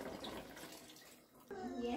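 Water pours steadily into a pot of Cameroonian pepper soup with towel meat and spices, a close, continuous splashing gush with a soft voice faintly underneath.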